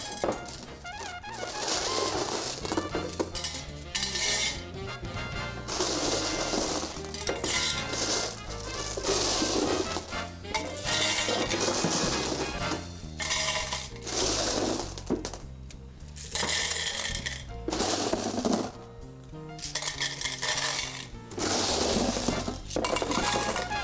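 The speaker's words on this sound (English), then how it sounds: "I'm using a multicolored river rock" Multicolored river rocks pour steadily into an arrangement container, a loud, continuous clattering and clinking with brief lulls that keeps up for about twenty seconds, close by and with no talk.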